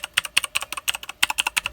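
Steady fast typing on a Razer BlackWidow mechanical gaming keyboard, with crisp, loud key clicks close by and no talking.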